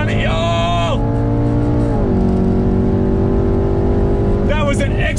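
Cars in a drag race launching hard, engines screaming up through the revs with a sharp gear change and another rising wail, loud and close, with voices talking over the engine noise.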